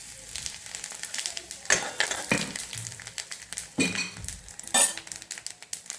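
Whole spices such as cardamom and cinnamon sizzle and crackle in hot oil in a pan, with a spoon scraping and clinking as they are stirred in several bursts.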